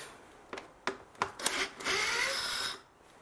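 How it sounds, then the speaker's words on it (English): A Torx T25 screw is worked loose on the air filter cover of a 2012 Mercedes B180 W246, with a few sharp close clicks and knocks followed by a longer grinding, rattling turn that fades out. "Just open the 4 screws."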